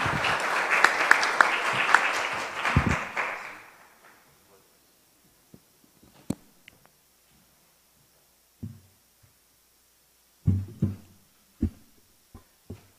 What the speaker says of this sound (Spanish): Recibimos al doctor Barbosa con un aplauso.